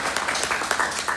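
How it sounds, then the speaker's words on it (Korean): Listeners at a talk in Jeju break into brief applause, a short burst of scattered clapping at moderate loudness with no speech over it. "박수!"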